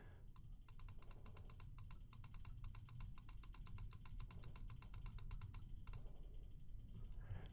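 Rapid clicking of an input button used to trigger a logic analyzer, about two dozen sharp, evenly spaced clicks in a fast steady run, close and clear over a low hum, stopping abruptly near the end.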